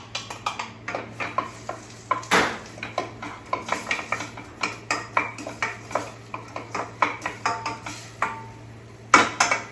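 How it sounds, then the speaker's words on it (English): Diced onions cooking in a hot pan, a soft sizzle beneath frequent close clinks and scrapes of a utensil stirring against the pan, with no speech. "And in there, I'm going to add my diced onions."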